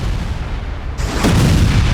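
Artillery fire from a 500,000-ton battleship in 3D CG animation: a loud, heavy boom breaks in halfway through and swells into a dense roaring rumble over an already noisy background.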